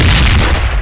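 A frag grenade goes off on the second floor of a building in Project Reality, a loud, close, broadband boom filling most of a second and fading slightly toward the end.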